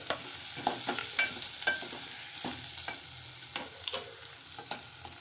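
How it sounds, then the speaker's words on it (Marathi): A spoon stirs and mashes boiled potato into a softened onion mixture in a pan, with soft sizzling frying underneath and repeated light scraping taps at an uneven rhythm, close and fairly quiet, with no talking. "आता मी उकडलेला बटाटा घालत आहे मिश्रण छान एकजीव करून घेत आहे"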